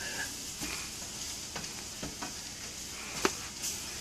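Flour cooking in a pan for beef stroganoff, a steady soft sizzle and frying hiss with intermittent stirring scrapes and one sharper clink of a utensil against the pan, close and moderately quiet.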